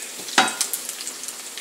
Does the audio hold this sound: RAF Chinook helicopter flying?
no